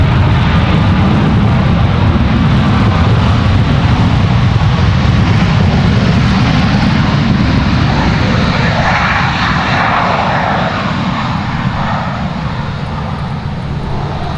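A Boeing 737 Max 9 airliner lands at Raleigh-Durham airport with a loud, steady roar of jet engines and broadband rushing noise. The sound holds strong throughout and eases slightly toward the end, with no talk over it.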